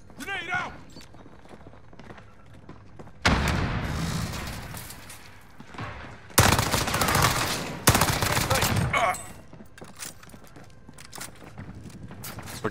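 Video-game battle royale firefight with a grenade blast and bursts of gunfire, several loud broadband explosions and volleys in the middle of the stretch, with a man calling out over the action.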